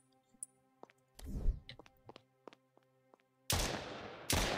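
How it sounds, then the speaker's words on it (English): Gunfire in a zombie apocalypse survival game: small scattered clicks and thuds, then a booming shot, followed by two loud, close blasts near the end, with no talk over them. "Definitely use the gun for this."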